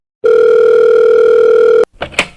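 A telephone tone sounds on an outgoing call to a friend named Seunghyun, one loud, steady electronic beep lasting about a second and a half, followed by a brief voice after it stops.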